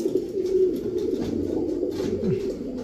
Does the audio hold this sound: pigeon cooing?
yes